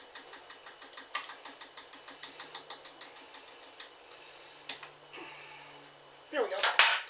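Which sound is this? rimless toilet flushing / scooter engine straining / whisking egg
whisking egg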